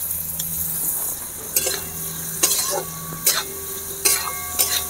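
Chopped onion and chili fry with grated ginger and garlic in a pan, a light sizzle under several sharp, close scraping stirs that come at irregular intervals.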